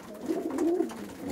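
Homing pigeons coo softly inside a pigeon loft, one low throaty coo rolling through the short stretch at a modest, close distance.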